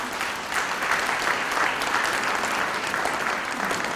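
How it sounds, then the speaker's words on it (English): Sustained applause from a lecture audience, steady dense clapping throughout at moderate level, with no speech over it. "a round of applause to you"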